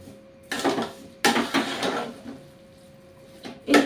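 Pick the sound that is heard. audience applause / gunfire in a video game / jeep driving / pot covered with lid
pot covered with lid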